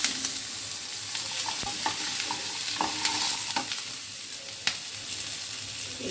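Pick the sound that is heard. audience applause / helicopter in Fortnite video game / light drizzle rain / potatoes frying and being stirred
potatoes frying and being stirred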